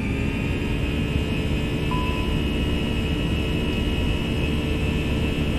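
Airbus A320 jet engines roar at takeoff thrust in a flight simulator game, a steady loud broadband rumble with a sustained whine and no talk.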